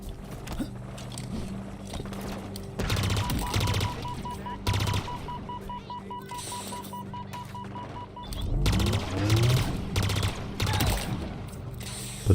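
Pulse carbine fire in Halo Infinite, loud rapid bursts of energy shots with whining, sweeping tones and layered in-game combat effects over about twelve seconds.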